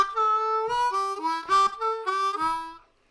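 Harmonica plays the signature lick from a blues tune, starting on a 2-hole blow and 2 draw: a short run of bright, bending reed notes played solo, close and clear, fading out at the end.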